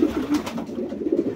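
Pigeons coo steadily inside a crowded pigeon loft, a continuous low burbling chorus of several birds close by, with no talking.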